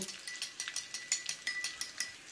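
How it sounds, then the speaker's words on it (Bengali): Spice paste for chilli chicken is stirred with a little water, producing a quick, rhythmic run of soft wet scrapes and light spoon taps close by. "এই পেস্টটার মধ্যে আমি 2 চামচ জল দেব, 2 চামচ জল দিলাম, ভালো করে একটু মাখিয়ে নেব"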